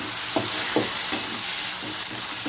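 Onions with three medium tomatoes and green chillies cooking in a pan for egg paniyaram kulambu, giving a steady close sizzle with a few soft stirring scrapes at regular intervals and no talk.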